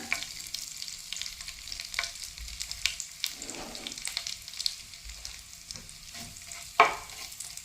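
Cumin seeds and dried red chillies frying in hot oil for a tomato and garlic curry, a steady close crackling sizzle with stirring scrapes and one sharp clink near the end.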